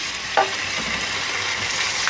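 Steady sizzling of diced beef frying in a hot pan, a continuous crackling hiss with a brief louder pop near the start.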